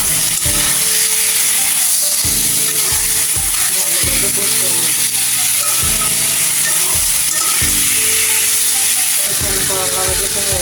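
Turmeric, chili and cumin powder fry in a pan for a fish curry, a constant loud sizzle and hiss with repeated scraping stirs throughout.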